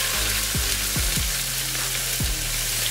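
Ground pork browning in a hot pan gives a continuous close sizzle and crackle, with a few low rising swishes from stirring scattered through.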